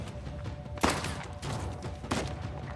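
Gunfire in Uncharted: The Lost Legacy: two sharp close shots with roughly a second between them, each with a short rough tail, over a low game background.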